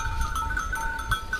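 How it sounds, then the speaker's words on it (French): Ewes on a farm bleat in overlapping calls, a steady chorus of sheep voices at moderate distance with a low rumbling background and no talking. "les brebis, ça saute tout azimut."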